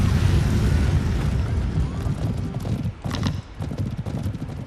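Horses galloping across a battlefield in the strategy game Age of Empires Online, a dense, loud clatter of hooves with whinnies over a rumbling mix of battle noise.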